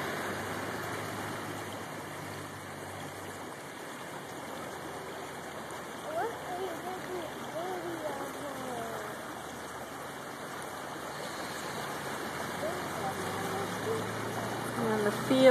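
December floodwater rushes across a bridge in a continuous broadband roar of flowing water, steady and fairly close, with a person talking quietly beneath the flow.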